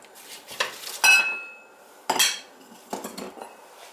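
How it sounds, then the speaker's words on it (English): Broccoli, cauliflower and celery dropped into a crockpot on top of Brussels sprouts, making four separate clattering bumps against the pot, close and fairly loud with quiet gaps between. "Put the broccoli, cauliflower, celery in."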